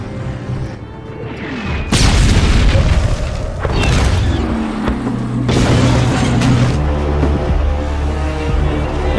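Several loud, deep explosions boom one after another at irregular intervals near Donetsk airport, each leaving a heavy rumble that lingers between blasts.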